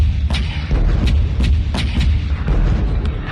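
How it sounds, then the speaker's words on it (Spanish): Artillery opens fire at nightfall on a square in Tsar Nicholas II's Russia, a series of repeated deep booms and sharp reports over a heavy low rumble, regularly spaced and loud. "Al caer la noche ordenó abrir fuego a la artillería."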